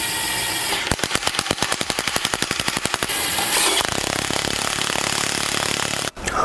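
A DeWalt DCF922 cordless impact wrench loosening a bolt: a fast, loud, regular hammering rattle for about two seconds, then a continuous high motor whir as the fastener spins free, ending abruptly.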